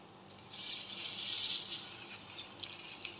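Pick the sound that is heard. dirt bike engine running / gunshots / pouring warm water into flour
pouring warm water into flour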